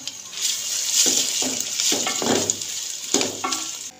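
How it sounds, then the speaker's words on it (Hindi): Bitter gourd (karela) frying in oil on medium heat, a continuous close sizzle with several scraping stirs of a spoon through the pan. "मीडियम आंच पे इसे हम फ्राई करेंगे गोल्डन ब्राउन होने तक।"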